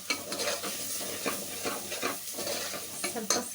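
Coriander powder and chilli powder frying in a pan for a green gram gravy, a soft close sizzle broken by repeated scraping stirs of a spoon against the pan.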